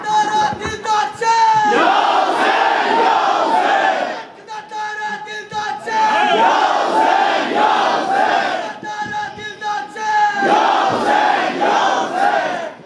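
A large crowd at a religious gathering chants slogans in loud unison, surging in long roaring waves with brief dips between calls.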